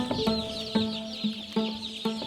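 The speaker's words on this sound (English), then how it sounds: "I can hear the chickens." Chickens on a farm with about two thousand birds, a close chorus of repeated short clucks and rising calls in uneven bursts over a constant background of flock noise.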